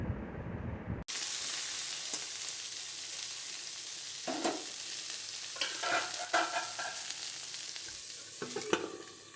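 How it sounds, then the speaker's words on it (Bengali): Drumstick stalks and potatoes frying in a pan, a continuous soft sizzle broken by several scraping stirs of a spatula, close and fairly quiet. "ডাঁটাটা কিন্তু অনেকটা ভালো করে আমার ভাজাও হয়ে গেছে আলুটাও অনেকটা ভাজা হয়ে গেছে"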